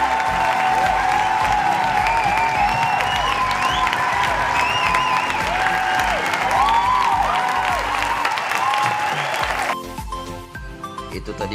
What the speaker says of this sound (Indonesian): Itu tadi para audiens yang telah memberikan aplaus terhadap aquascape saya